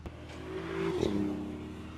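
A BMW supercar accelerates hard nearby, its engine note rising in a steady revving swell that peaks around the middle and then eases off, with no talk over it.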